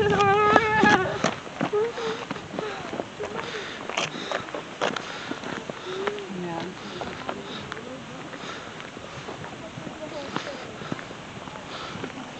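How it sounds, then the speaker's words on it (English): Wind buffets the microphone in heavy, uneven rumbles on a hike in Brown County, Indiana, with crunching footsteps and rustling scattered throughout. "it's real windy out, so I apologize about the audio"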